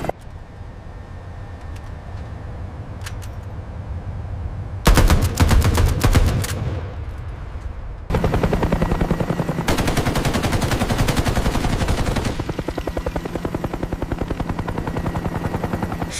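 Apache helicopter cannon in a video game: rapid bursts of heavy automatic fire come in long loud stretches over a background rotor drone, with a gap between them.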